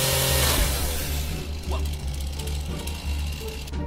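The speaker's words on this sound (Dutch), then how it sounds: "Hij is zijn nieuwe iPhone aan het openmaken met een kettingzaag." A chainsaw cutting into a new iPhone X makes a loud, continuous buzzing engine roar that wavers in pitch throughout, with some rattling noise mixed in.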